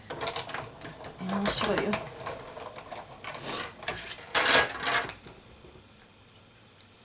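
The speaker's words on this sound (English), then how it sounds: "we're gonna run it through the big kick machine" A Big Kick die-cutting machine cranks a card through an embossing folder, giving ratcheting mechanical clacks and rattles in uneven bursts, with a person speaking briefly over the noise.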